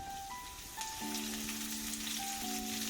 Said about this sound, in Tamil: ஒரு பேனில் எண்ணெய் ஊற்றி எண்ணெய் சூடானதும் மீடியம் சைஸில் 2 வெங்காயம் போட்டு நல்லா வதக்கி விடணும்.